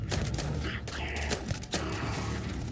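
Gunfire in Starfield, a burst of several sharp shots with mechanical clanks and thuds, fairly close and loud, with a faint gasp among them.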